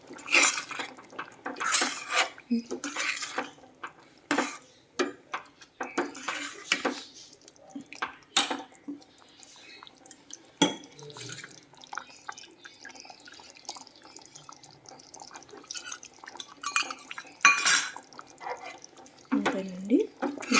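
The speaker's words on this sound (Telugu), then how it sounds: "కొంచెం వరిపిండిని ఇలా వాటర్లో మిక్స్ చేసుకొని దీంట్లోకి అయితే వేసుకోవాలండి" Rice flour mixed with water is poured into a pot of pumpkin stew and stirred, giving scattered clinks of a spoon against metal, light drips and splashes, with a voice speaking intermittently nearby.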